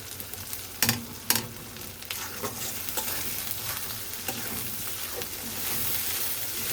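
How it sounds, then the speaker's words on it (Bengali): Spices and chili powder stir-frying in a pan for a Bengali liver dish, with a steady close sizzle under sharp scraping stirs near the start and softer scrapes throughout; no one speaks. "তো এখন সুন্দর করে মশলাগুলো কষিয়ে নিব"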